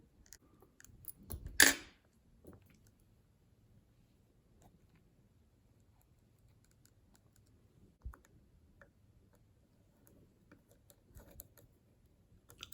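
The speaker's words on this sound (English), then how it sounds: "go ahead and reapply the covers and the screws" Small plastic clicks and snaps while a Lexus ES300 key fob is put back together, its covers and screws refitted, with one sharp snap early and a few faint taps after, in a quiet room.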